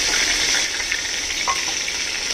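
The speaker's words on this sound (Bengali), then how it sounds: "দুদিকটাই ভাজা হয়ে গেছে।" Hilsa fish heads rubbed with salt and turmeric frying in mustard oil in a wok, giving a steady, close sizzle with faint crackles and no talk.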